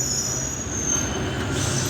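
A Paris Metro line 5 train at Bobigny station, giving a steady loud rumble with a sustained high wheel squeal, heard close.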